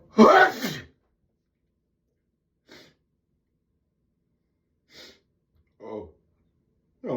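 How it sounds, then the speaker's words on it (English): A person lets out one loud, close sneeze at the start, followed by a few faint breaths and sniffs with long quiet gaps between them. "I gotta sneeze again."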